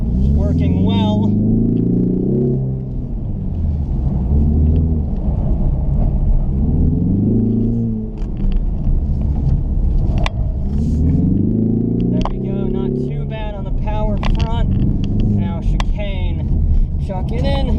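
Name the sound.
2021 Ford Mustang EcoBoost turbocharged engine driving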